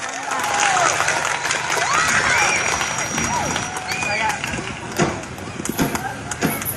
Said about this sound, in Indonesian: Yo, tepuk tangan semuanya para santri dan para tamu undangan.